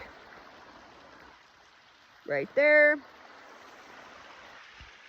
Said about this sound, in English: So here's the creek